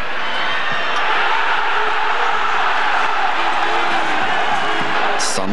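A football crowd at a Belgian league match between KSK Beveren and Antwerp in 2004 cheers after a Beveren goal, a loud, sustained roar of voices that stays full throughout.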